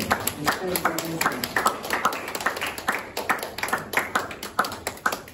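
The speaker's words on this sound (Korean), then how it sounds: "우리 박수로 끝까지 함께 축하하겠습니다" Steady rhythmic hand clapping from a congregation at a church high school youth service birthday celebration, brisk and continuous across the whole stretch, with a voice speaking over it at times.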